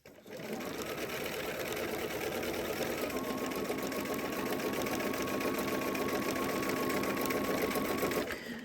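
A sewing machine stitches fabric for a crossbody bag with a small stitch length, running steadily and close for about eight seconds with a fast, even mechanical whir before stopping.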